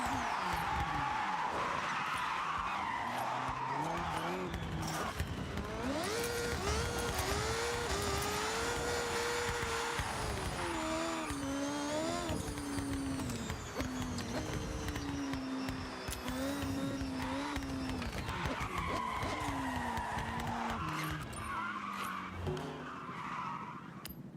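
Racing video game car doing tire burnouts and skids, with a sustained loud engine whine and squealing tires rising and falling in pitch across the whole stretch, steady and close with no talking.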